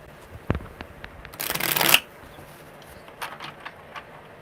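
Tarot cards get a quick riffle shuffle, a dense, fairly loud burst of flapping paper lasting under a second, framed by a few soft taps and handling clicks in a quiet room.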